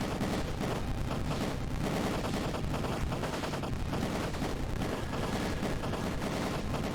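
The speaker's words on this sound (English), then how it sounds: "There's a lot of explosions." Dense, continuous barrage of explosion and gunfire-like blasts during a boss fight in the video game Freddy in Space 2, loud and unbroken throughout with no pauses.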